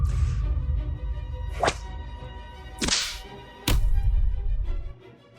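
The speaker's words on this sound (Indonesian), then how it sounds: "Kak Mi, ada yang salah dengan cambuk itu." Sharp whip cracks on a period-drama film set, three distinct lashes each with a bright snapping burst over a steady low rumble of background sound, loud and close.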